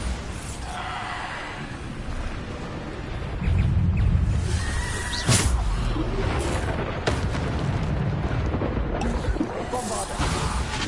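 Bombarda explosion spells blast repeatedly in Hogwarts Legacy gameplay, a series of loud booming bursts and crackling impacts over a dense, continuous game soundscape.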